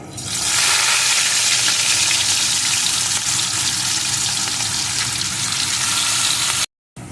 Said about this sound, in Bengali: তেলটা গরম হয়ে গেছে এখন আমি লবণ হলুদ মাখানো মাছগুলোকে দিয়ে প্রথমে ভেজে নেব